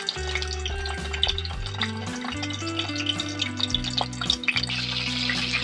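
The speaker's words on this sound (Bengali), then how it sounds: "এবারে একটা একটা করে দেবো আর তেলে ভেজে নেবো।" Hilsa fish paturi wrapped in cabbage leaves frying in oil one at a time, a loud, busy crackle and sizzle with spattering pops, heard alone without talk.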